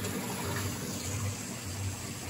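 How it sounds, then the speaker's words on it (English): Fresh water pouring back into an aquarium sump during a water change, a steady close rushing and splashing gush that continues evenly throughout. "So a little water going back in now."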